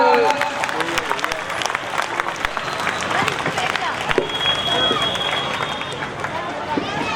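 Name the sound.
applause at Republic Day flag hoisting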